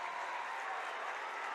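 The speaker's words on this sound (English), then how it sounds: "Both crowds on their feet applauding the effort from both teams in the first half" Both basketball crowds at a high school boys' game on their feet applauding at halftime, a dense, steady wash of clapping filling the whole short stretch.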